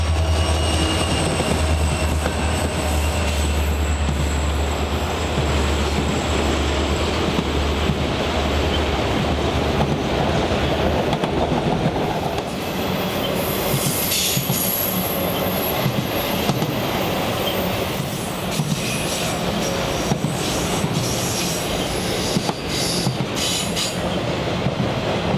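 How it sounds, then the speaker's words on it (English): A long auto rack freight train passes steadily in New Baltimore in December as it slows on its approach to Selkirk Yard, with a continuous rumble, rail clatter and high wheel squeal throughout. "we see the auto rack train again."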